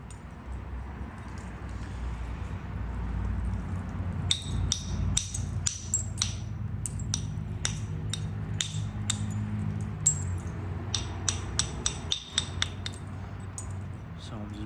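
Sharp stone-on-stone clicks and taps from flint knapping, flaking both edges of a Savannah River point. They come in irregular bursts from close by over a low rumbling background, with no voices.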